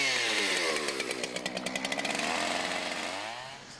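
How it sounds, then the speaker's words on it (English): A chainsaw revving steadily and loudly at a roadside carving stand, its engine note wavering with a rapid pulsing flutter in the middle before easing off toward the end. "Christian Smith sets up shop 7 days a week on the corner of Slaughter and South Congress to ply his wares and practice his unique art form, chainsaw carving."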